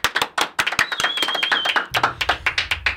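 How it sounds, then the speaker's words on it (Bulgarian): A Bulgarian TV studio audience claps for a guest, a loose, sparse burst of individual hand claps that are close and crisp rather than a dense roar, with a faint whistle partway through. "вашите аплодисменти пред мониторите за Христо Петров"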